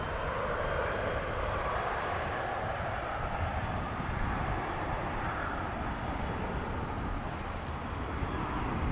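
An American Airlines airliner in TWA heritage livery at Dallas/Fort Worth Airport gives a steady, broadband engine roar that holds evenly throughout, moderately distant with a wind-like wash.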